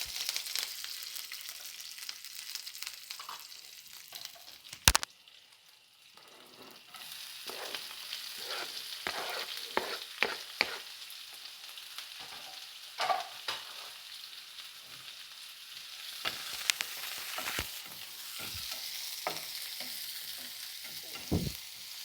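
Curry leaves and four green chillies fry in a pan for carrot and beetroot poriyal, with a soft, steady sizzle broken by repeated scraping stirs of a spoon against the pan at close range.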